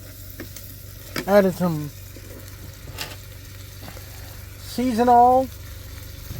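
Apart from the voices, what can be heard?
peppers sizzling in garlic butter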